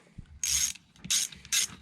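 A ratchet tightening flange nuts on a Stihl MS 291 chainsaw: three short, crisp clicking bursts in an even rhythm, close and distinct with no voices.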